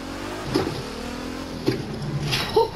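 A torquey car launches and accelerates hard, its engine note climbing under a steady road roar, with a few brief thumps and rattles along the way.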